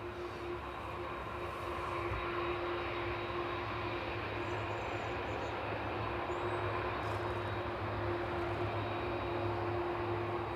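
A Boeing 747 from JFK at East Midlands Airport on a wet evening runway, a steady, loud jet engine roar with a constant tonal whine, sustained throughout without interruption.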